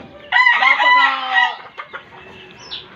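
A game-farm rooster lets out a loud, close crow lasting about a second while being fed, followed by a few scattered clucks from the flock.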